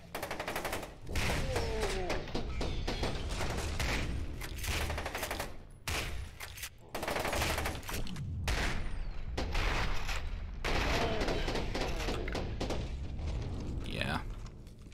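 Shotgun and other weapons fire in the video game FEAR 2. Dense bursts of blasts repeat almost continuously, loud and close, with a few short gaps, and a voice talks over parts of it.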